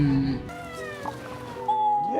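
A cat's meow, a short tonal cry with rising and falling pitch, heard close and clear over a faint background, followed by a brighter sustained tone.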